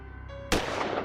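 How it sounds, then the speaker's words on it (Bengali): A single loud cartoon gunshot bursts out suddenly after a quiet tonal stretch, its blast trailing off with a rumbling decay. "তারপর ওই ওই গুলির শব্দ"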